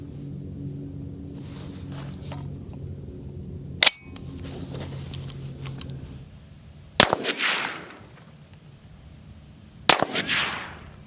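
Three sharp, loud rifle shots from an AR10 chambered in 6.5 Creedmoor firing Hornady match ammunition, spaced several seconds apart at an outdoor range, each with a crack and a rolling echo tail over low background rumble.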